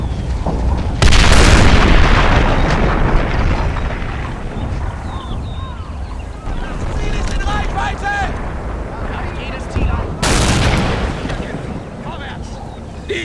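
A World War II strategy game set on the Dnieper line fires heavy cannon shots, producing loud booms with rumbling decay over continuous battle noise, while voices call out in between.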